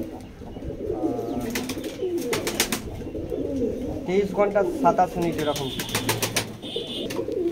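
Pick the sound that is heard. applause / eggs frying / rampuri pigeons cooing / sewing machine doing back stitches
rampuri pigeons cooing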